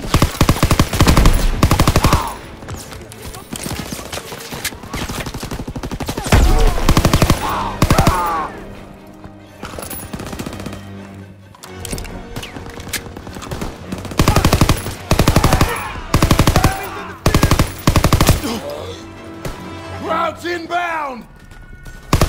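Loud bursts of machine gun fire from a hayloft MG position in the WWII shooter Call of Duty: WWII, rattling in repeated volleys across the battle amid shelling and scattered shouts.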